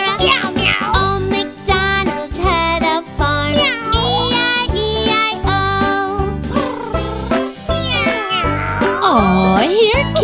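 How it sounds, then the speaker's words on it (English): A cat meows again and again in short rising and falling calls, set against a bouncy, steady nursery-rhyme musical backing of Old MacDonald Had a Farm. "Meow, meow."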